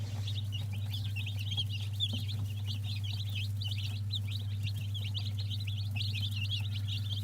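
Newly hatched chicks peep rapidly and continuously in a rapid cheeping chorus, close by over a steady low incubator hum, with no talk.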